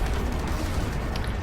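A rumbling explosion during a Fortnite in-game event, a continuous loud low boom that fills the whole moment with dense roar and no voices over it.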